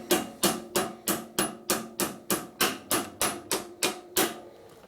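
Sharp metallic hammer blows strike motorcycle parts during a springer front end and disc brake conversion on a 1936-1948 Harley knucklehead bobber, about fourteen evenly spaced ringing hits, loud and close, with no talking.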